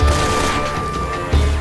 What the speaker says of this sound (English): he's shooting an AK with one arm